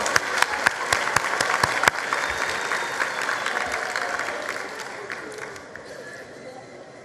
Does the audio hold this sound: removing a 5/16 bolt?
no